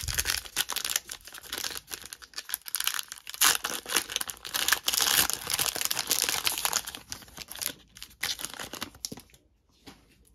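Crinkly plastic foil of a Panini Phoenix football card pack being torn open and handled up close, a steady run of crackling and tearing noises that drop off near the end.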